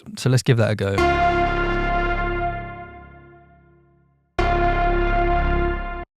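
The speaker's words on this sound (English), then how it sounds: "increase the gain on the low end before we go into that distortion, because it creates this really nice sort of gritty effect" Synthesizer patch pushed through distortion after a low-end gain boost, giving a gritty, buzzing tone: a sustained note decays slowly, then a second note hits loudly and holds. Someone speaks briefly at the start.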